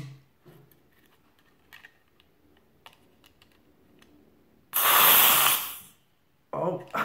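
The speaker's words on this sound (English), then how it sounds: "a lot of CO2 just kind of leaked out of there" A CO2 cartridge screwed into a cheap BB gun leaks, a loud sharp hiss of escaping gas lasting about a second after small handling clicks, followed by a shorter second burst.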